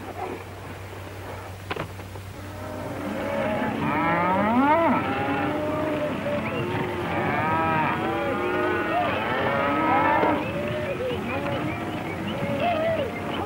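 Several cattle moo repeatedly in overlapping, drawn-out calls, fairly close, with a low steady background hum throughout.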